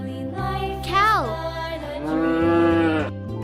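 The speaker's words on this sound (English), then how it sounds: "Cow." A cow moos twice close by on a farm, a short rising-and-falling call followed by a longer, steadier low moo, clear and loud with no speech over it.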